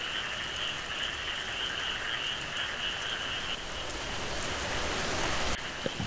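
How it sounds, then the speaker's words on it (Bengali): Heavy rain pours down in a Bengali fairy-tale cartoon as a dense, steady hiss of falling water, with a croaking, frog-like tone mixed in. It holds at the same level throughout, with no voices. "বাবা, বৃষ্টিটা যা বাড়ছে"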